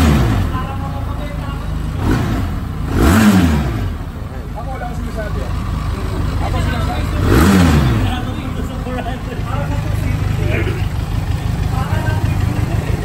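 A Benelli TRK 502X adventure motorcycle with spoked wheels idles with a low throb, and its exhaust swells in two distinct revs before settling back. A voice talks over the engine.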